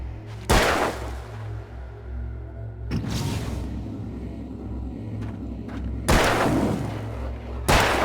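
Heavy gunshots in the video game Alan Wake, four loud booming blasts spaced a few seconds apart, each with a rumbling tail over a low droning background.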